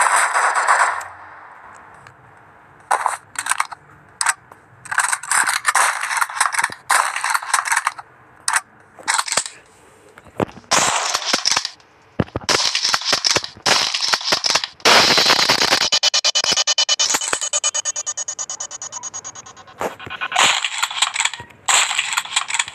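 AKS-74 rifle fire in the Stick Warfare Blood Strike video game: repeated sharp bursts of automatic gunfire in short clusters, then a longer sustained volley, loud and close with brief silent gaps between bursts.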